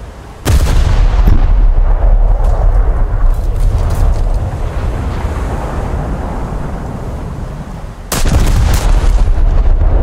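Two heavy booming salvos from the Japanese battleship Mutsu's main guns in War Thunder, one near the start and one later, each with a long rumbling tail, loud and close.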